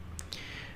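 Two quick, crisp computer mouse clicks land close together on a quiet background, pressing an OK button in Siemens PCS7 software.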